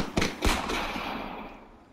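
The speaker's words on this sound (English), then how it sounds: "There's a lot of gunshots." Video game gunfire: two sharp, loud shots in quick succession followed by a long echoing decay that fades away over about two seconds, with no talk.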